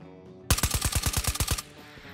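A rapid burst of about ten gunshots from a firearm in the VR shooter Ghosts of Tabor, loud and close, evenly spaced, then cutting off into quiet room tone.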